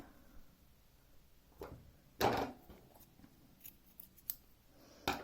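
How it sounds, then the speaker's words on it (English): A few quiet, crisp scissor snips cutting crochet yarn, one sharper cut standing out, separated by short pauses in a quiet room. "Snip the yarn with our scissors"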